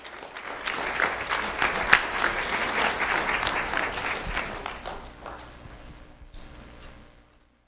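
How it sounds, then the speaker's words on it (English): An audience applauds a brother and sister at a school board recognition, a steady burst of clapping that holds strong for several seconds, then thins and fades out near the end. "Let's have a round of applause for Adrian and Camila."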